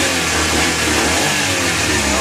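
A Suzuki DA64V non-turbo engine revs steadily after a TPS sensor replacement, with no hunting or surging. The sound is loud and close, a continuous mid-pitched engine roar with no speech.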